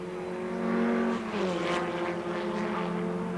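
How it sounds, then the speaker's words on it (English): Formula Ford race cars at the 1989 Formula Ford Festival semi-finals cross the finish line, their engines forming a steady, loud roar with a shifting pitch as they pass, with no talk. "And over the line now, Bernard Dolan wins the first semi-final"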